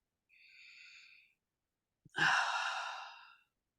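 Slow, deep breaths during a guided meditation: a soft, steady breath for about a second, a pause, then a longer, louder exhale lasting over a second, close up and alone.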